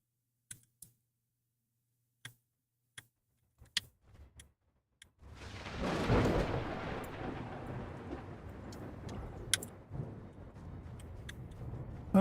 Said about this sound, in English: Did I just get hit by lightning?